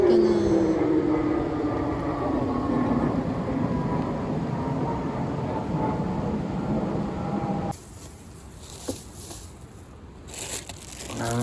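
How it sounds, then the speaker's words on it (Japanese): A fighter jet passes overhead at a Hokkaido campsite, a loud broad roar sliding downward in pitch, then cutting off abruptly into quieter outdoor ambience with a few faint knocks. "お戦闘機だ。"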